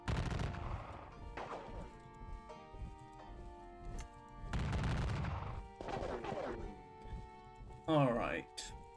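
Scattered musket and cannon fire from a Civil War wargame of the Battle of Gettysburg, bursts of crackling volleys rising and falling over steady game music, with a louder sharp burst near the end.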